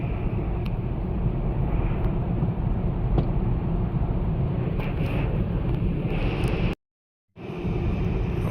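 Tesla car driving on a road, heard from inside the cabin as a steady broadband rumble of road and wind noise, fairly loud and continuous, with a brief dropout of total silence near the end.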